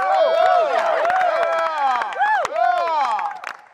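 An audience at a 2016 Suicide Squad film panel cheers, whoops and claps as panelists are introduced, loud and continuous across the whole stretch with lively mixed voices.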